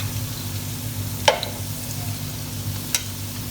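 Reshmi kebabs frying in oil in a pan, a steady close sizzle with a low hum beneath and two sharp pops or clinks standing out.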